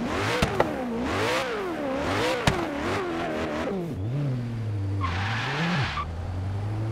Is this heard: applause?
no